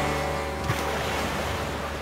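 Stormy river water in The Flame in the Flood, a steady rushing wash of surf-like noise with wind, continuous and fairly loud throughout a short stretch.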